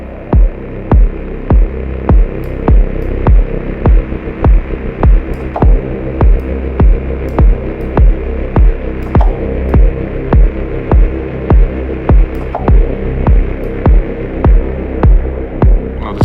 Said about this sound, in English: This kind of static wind kind of thing.